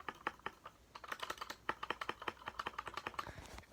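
Keys and the space bar of a Royal Kludge 60% mechanical keyboard are pressed in quick, uneven bursts. The clacks are crisp, close and moderately loud, with some heavier thocks mixed in and no voice.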